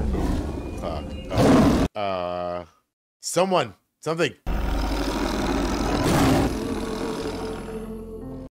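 A tiger roars in a fight scene from the Indian film RRR: loud, ragged roars and snarls in short bursts amid film sound, with people talking excitedly over parts of it.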